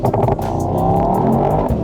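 A 2024 Mercedes-AMG GT63 two-door launches hard with its exhaust valves open, the engine roaring loud and close with a steady, full-throttle growl and rapid rhythmic pulses as it accelerates.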